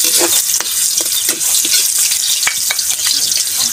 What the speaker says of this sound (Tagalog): Tara, gigisa na po tayo. Bukan natin sa ating bawang.